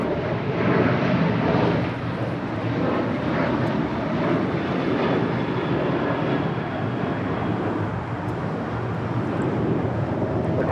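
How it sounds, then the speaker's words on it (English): A United Boeing 737-800 airliner departing Los Angeles International Airport for Denver, its engines roaring loud and steady throughout with a dense, continuous rumble and no voices. "This is United 1012 departing to Denver, Colorado on a 737-800"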